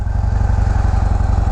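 A 2015 Harley-Davidson Dyna Low Rider with its stock exhaust pipe idles close by in a loud, steady, lumpy throb, each firing pulse evenly spaced and alone with no talk.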